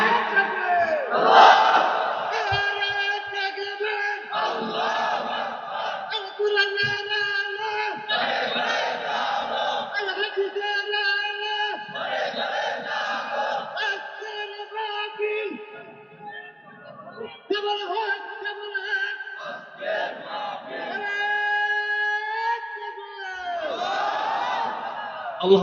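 A crowd at an Islamic waz sermon gathering led by Mizanur Rahman Azhari chants the takbir in response, with loud unified shouts repeated in a steady call-and-answer rhythm throughout.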